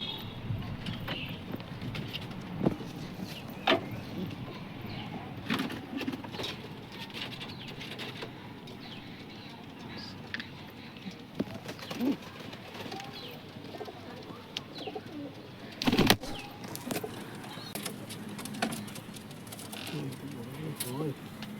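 Big pigeons in a loft cooing and shuffling with occasional wing flaps, soft and close, while a person talks over them.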